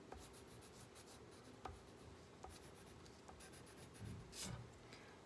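Crayon dragged across paper in repeated short strokes, drawing stripes on an anteater's tail; scratchy, close rubbing with a few sharper taps, and a slightly louder burst of strokes near the end.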